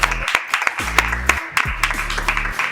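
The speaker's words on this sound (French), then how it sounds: "Merci, on peut applaudir." A small group claps briefly, scattered hand claps close by over a low droning hum and faint background voices.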